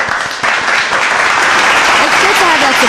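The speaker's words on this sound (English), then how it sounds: "We need to clap it up for mom" A studio audience claps loudly for a guest's mother, dense sustained applause starting abruptly and filling the whole stretch, with voices talking over it.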